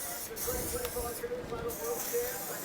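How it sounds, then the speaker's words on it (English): Canola oil sprays from a can over a tart in a kitchen, a close, continuous hiss lasting a couple of seconds with slight pulsing. "Bit of spray canola oil and just"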